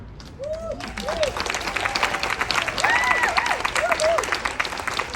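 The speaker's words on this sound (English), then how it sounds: "Another round of applause." A conference audience applauds Madison after her speech at a Dear Mom event, a steady wash of clapping with cheers and whoops rising through it, joined by a few voices calling out.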